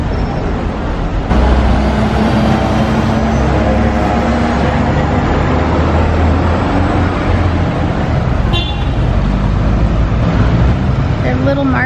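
City bus and street traffic in Bergamo, Italy, a loud continuous low rumble of engines and road noise with a brief brighter squeal near the end.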